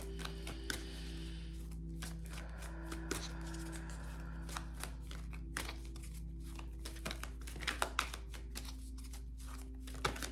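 Tarot cards are riffled and shuffled repeatedly, crisp papery flicks and snaps over a low steady hum, close and fairly quiet.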